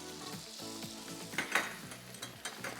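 Butter sizzles in a hot pan on a TV cooking show, a soft steady crackle with a few louder spits and pops, quiet and close.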